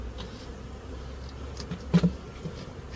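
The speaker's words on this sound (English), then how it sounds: "Got a bunch of bees on the ground here who are confused." Honeybees buzz around an 8-frame hive box during a transplant, a low continuous hum with a couple of louder nearby passes.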